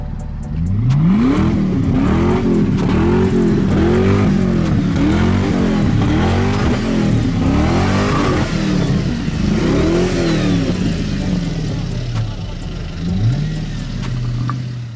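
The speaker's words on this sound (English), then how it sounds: "Let me turn this car on." A 2007 Toyota Camry engine cranks to life after a radiator replacement and is revved repeatedly, the pitch swelling and falling in loud, close surges.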